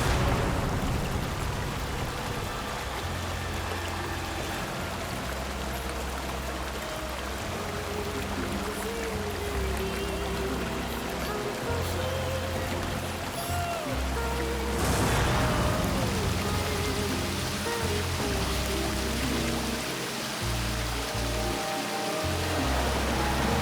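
Rushing water from a forest waterfall near Jumma Patti pours in a constant, loud, broadband roar, with low thudding dramatic music moving underneath and no voices.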